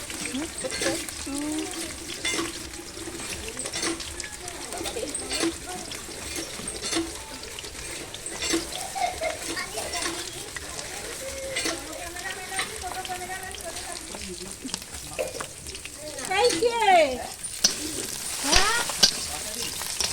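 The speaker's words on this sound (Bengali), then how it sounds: "আলুগুলো প্রায় ভাজা হয়ে গেছে" Steady sizzling of potatoes frying in a pan over a wood-fired stove, continuous and close, with occasional stirring scrapes and a brief splash of water near the end.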